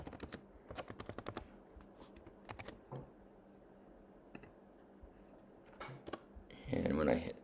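Computer keyboard typing while changing button text, bursts of quick close clicks separated by pauses, with a louder rustle near the end.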